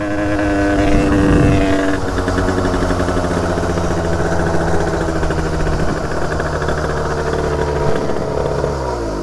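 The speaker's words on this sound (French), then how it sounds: "la moto, elle est en plein réglage carbu. Et donc des fois, elle broute." A motorcycle engine with a carburettor being tuned runs close and loud, rumbling unevenly with a rough, faltering idle after a brief rise in revs.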